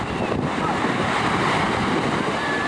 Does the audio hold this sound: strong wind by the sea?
yes